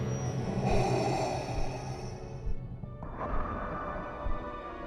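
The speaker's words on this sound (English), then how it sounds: "Now the breathing, you know it's labored the entire time." Labored, mechanical breathing of Darth Vader in a Star Wars fan film, slow hissing inhales and exhales repeating quietly and close, with a low rumbling background.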